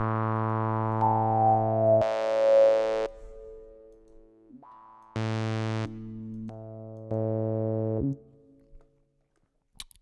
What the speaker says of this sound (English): we can choose different filter types, which I'm just going to click through to show you a bit what it sounds like